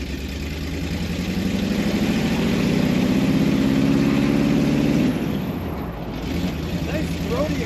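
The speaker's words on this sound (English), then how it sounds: "Nice throaty exhaust." A 1978 Jeep CJ-5 4x4 drives down a wintry road, its engine exhaust a steady throaty rumble that swells and then eases off, heard close and continuous.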